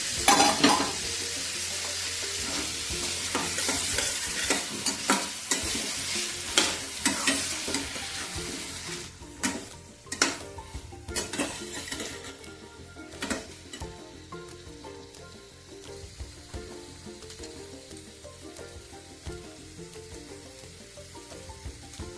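Mashed potato and radish stir-fried in a pan for a radish vegetable dish, with a steady sizzle under repeated scraping stir strokes, busier at first and then settling into quieter, intermittent stirring.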